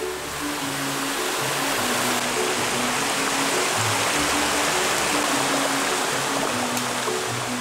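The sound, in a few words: mountain valley stream flowing through dense forest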